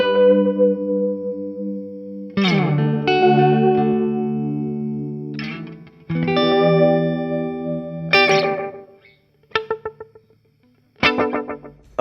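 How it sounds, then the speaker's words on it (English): Guitar played alone through a Fairfield Maude analog delay pedal set short with few repeats: sustained notes and chords followed by quick picked notes whose echoes trail off, loud and close with clear gaps between phrases. "I have the Fairfield Maude, which is one of my favorite analog delays"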